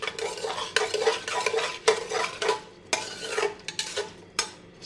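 A spoon stirs cinnamon and cardamom around a cooking pot, scraping and clinking in steady rhythmic strokes close by, with a faint sizzle underneath and no talking.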